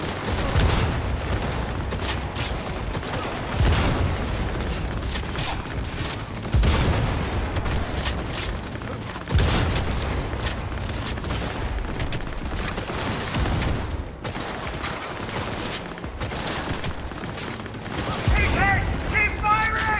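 Sustained automatic gunfire in Cyberpunk 2077 comes as dense, rapid bursts with a few heavier booms, loud and close across the whole stretch, with voices talking over it.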